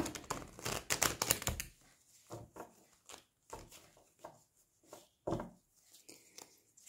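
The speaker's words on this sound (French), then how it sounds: "Alors, il y a beaucoup de cartes. Alors, on va essayer de bien mélanger ça." A deck of oracle cards is shuffled by hand, a dense riffle of papery flutters at first, then a series of separate short card slaps and shuffles at close range, with no talking.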